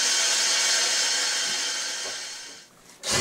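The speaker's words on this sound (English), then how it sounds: "I'm going to drill out these corner holes on the smaller opening." A power drill bores corner holes in an armoured scout car's body panel in a garage, a loud steady whirring grind that runs continuously, then briefly drops before spinning up again.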